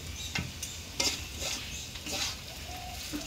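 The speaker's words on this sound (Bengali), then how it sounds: "এই যে আমার রুটি বানাইতেছে, আলু ভাজি করতেছে" Potatoes stirred and fried as aloo bhaji on a clay stove, giving a steady close sizzle with scraping stirs of a utensil against the pan and no talk.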